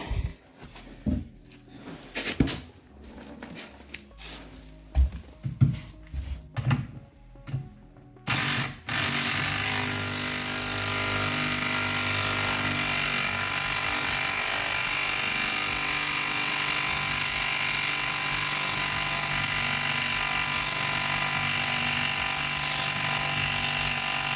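A tool works loose the rear shock absorber bolt on an Opel Vectra C20XE 4x4, with a burst of loud, irregular rattling hits for about nine seconds, then a steady, continuous mechanical drone fills the rest.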